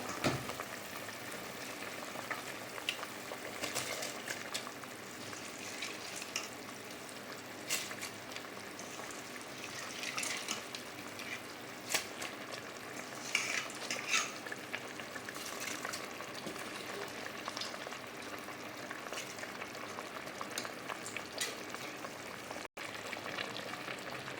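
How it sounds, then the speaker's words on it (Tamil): Water at a rolling boil with rice added for jackfruit biryani, a steady bubbling and hissing simmer close by, with no talk over it. "தண்ணி நல்லா கொதிச்சுட்டு"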